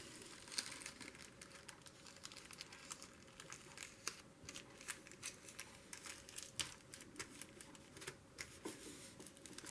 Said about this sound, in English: So now you're going to fold this into thirds.